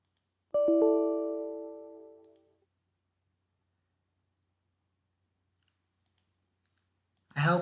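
A computer mouse gives a quick pair of sharp clicks near the start while an SD card drive is set up for Raspberry Pi OS on a Pi 4, followed by a long near-silent stretch and a short burst of sound at the very end.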